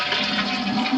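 A toilet flushing in a newly built North Dallas house, a steady close rushing of water filling the whole moment with no talk over it.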